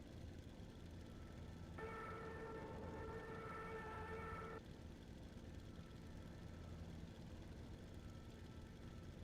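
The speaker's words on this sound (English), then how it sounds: "we need the Stuka siren, of course" A Stuka dive bomber siren in a war video game gives a steady, tonal wail lasting about three seconds, faint against a constant low engine-like rumble.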